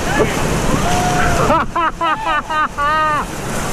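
Big river rapids crash against a raft in the Grand Canyon, loud rushing water with a rapid series of splashing surges and people shouting and whooping over it.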